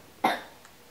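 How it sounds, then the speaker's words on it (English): A single short cough, close and moderately loud, rising sharply and fading quickly against a quiet background. "I'm sorry if you hear coughing."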